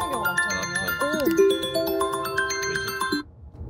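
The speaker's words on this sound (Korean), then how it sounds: "사모님 전화 왔는데요" A mobile phone ringtone for an incoming call plays in a realty office as a bright, melodic electronic tune of sustained tones and rising phrases, fairly loud and close, then it cuts off and faint room noise remains.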